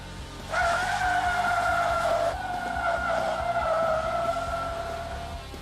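A car brakes hard from 60 mph with ABS switched off, its tires locking and skidding across the surface in one loud, sustained screech that holds steady, then slowly fades as the car slides to a stop.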